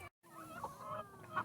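Farm chickens cluck softly nearby after a brief moment of silence, giving a few low, intermittent clucks and calls at quiet volume.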